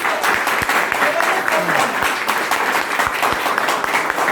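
A crowd at a Modicare business seminar bursts into loud, energetic applause with sharp individual claps standing out, while a voice carries on over the clapping.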